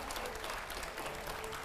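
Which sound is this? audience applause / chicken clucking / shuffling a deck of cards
audience applause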